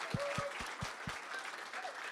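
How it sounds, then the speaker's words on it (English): Audience applause at a gathering in DC, a steady wash of many hands clapping at moderate level throughout, with a few low thumps near the start. "One more round of applause for Mike and Sue and Zach"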